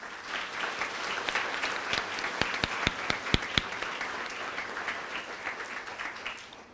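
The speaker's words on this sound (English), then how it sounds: "can I have a round of applause for these ladies and gentlemen?" A room of guests at a fall sports banquet applauds the team, steady continuous clapping with a few sharp, louder claps standing out near the middle before it tapers off.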